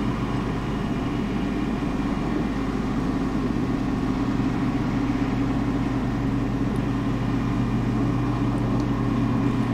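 A tractor engine runs at a constant low drone while it moves a concrete pad, steady and fairly close throughout with no talk.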